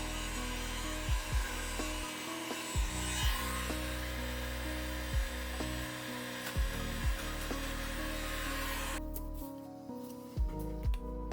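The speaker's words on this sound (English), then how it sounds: "using that heat gun to heat up the hose and twist it right off" Heat gun warming a radiator coolant hose during a Toyota Prius 1.8L engine swap, a steady close blowing hiss throughout, punctuated by repeated soft knocks and thumps, with the airflow cutting out near the end.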